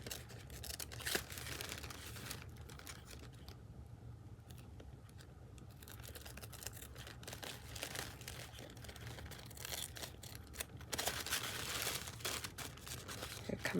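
Scissors snipping around thin paper for a mixed-media craft piece, a soft ongoing rustle and crinkle of paper, close but quiet, with no voices.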